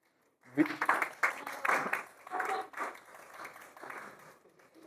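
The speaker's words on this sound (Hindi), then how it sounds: "हाँ वेरी गुड, तालियां।" A class of students breaks into a short burst of clapping in a physics lesson. It swells quickly, then thins out unevenly, with some voices mixed in.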